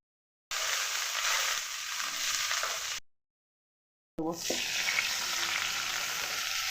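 Curry leaves fry in hot oil over a black mustard seed tempering, a strong, close sizzle with stirring. It plays in two stretches broken by a short silent cut, and the second stretch opens with a sharp hiss.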